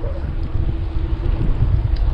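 Strong wind buffets the microphone as a cyclist pedals along the beach at Sabang, Baler, Aurora, a loud, steady low rumble with gusty surges throughout.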